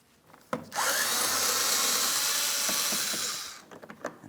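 A tool backs 5.5mm mounting bolts out of the fender liner of a 2007-2014 Ford Edge 3.5L. A steady, whirring run lasts about three seconds, with a few sharp clicks and clatters before and after, close by.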